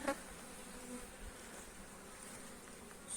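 Honey bees humming around an opened hive with low food stores, a steady, faint, even drone with no voices.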